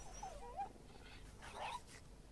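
A puppy pet in the video game Warframe whimpers and gives soft high yips, faint and brief, a couple of short cries over a quiet background.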